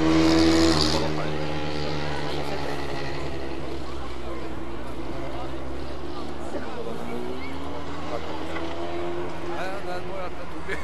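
Rallycross car under hard acceleration at Bilcross Koppang, a loud sustained engine roar rising and falling in pitch through the gears while an announcer talks over it.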